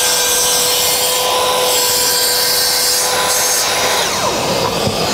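A Mafell MT5518M cordless plunge saw cuts through chipboard with a steady, loud, continuous rasping whine, the blade's tone holding evenly throughout with no voices.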